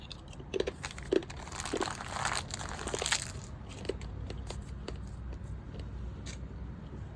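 Wax packs of 1987 Topps baseball cards are torn open, with close crinkling and crunching of the wrappers, sharp tearing snaps early on, then softer rustling handling.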